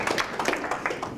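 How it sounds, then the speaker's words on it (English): Middle school students at a leadership symposium give a group a round of applause, a short, dense burst of many hands clapping close by. "How about giving this group a nice big round of applause?"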